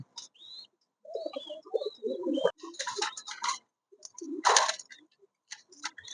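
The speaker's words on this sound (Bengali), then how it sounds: "আমাদের সেই গ্রাম আঞ্চলিক সেই কিং কবুতর" A king pigeon coos in low, throaty bursts with pauses, close and fairly quiet, alongside some sharp higher clicks and chirps.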